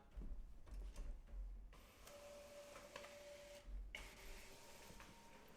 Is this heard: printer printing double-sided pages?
yes